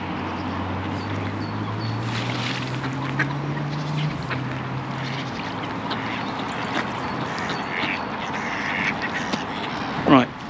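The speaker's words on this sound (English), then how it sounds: "All the birds and everyone having a drink and chilling out." Ducks quack at a village pond near Walton on the Hill, where wild birds gather to drink. The calls are scattered and moderately distant over a steady low hum and outdoor background.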